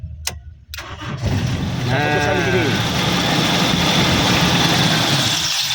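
A Toyota Kijang EFI petrol engine cranks on its starter and catches, then runs loud and steady close by, with a brief voice heard over it early on.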